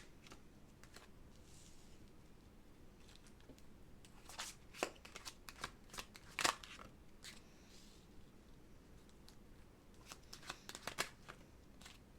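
A deck of tarot cards being shuffled, giving quiet, irregular papery riffles and sharp snapping flicks that come in bursts over a soft background hiss, with no talking.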